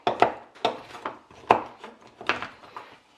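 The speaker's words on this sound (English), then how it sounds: "all we're doing is giving that a chop" A knife chopping a Cadbury Dairy Milk Fruit and Nut chocolate bar on a board, a series of close, crisp, irregular chops with short scraping rasps between them.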